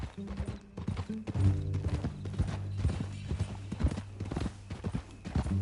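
Horse hooves clip-clop at a steady walking pace, close by, with a brief whinny and faint mechanical sounds, in the video game Red Dead Redemption 2.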